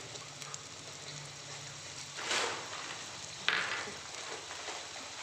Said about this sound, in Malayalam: ഉള്ളി മാത്രമാണ് വറുത്തിടുന്നത്